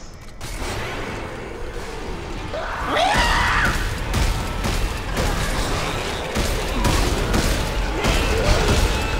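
Plasma cutter fire from the Dead Space 3 video game, heard as a rapid series of sharp, booming bursts with mechanical clanks and creaks. The shots repeat steadily through the game's dense, noisy soundscape.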